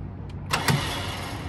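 A new Badland 12k electric winch runs steadily at close range, giving a continuous low motor hum and whine for about a second and a half.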